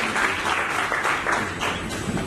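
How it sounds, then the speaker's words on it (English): Steady, dense applause from an audience at a film industry engagement session, clapping continuously and evenly throughout without fading, with no voices rising above it. "let's give him a round of applause, please."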